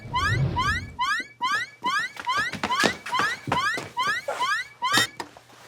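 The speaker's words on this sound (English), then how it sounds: "You set off the alarm. Didn't you hear it?" Alarm going off with a rapid series of rising electronic chirps repeating in quick bursts, loud and close, joined by sharp knocks and clatter between the tones.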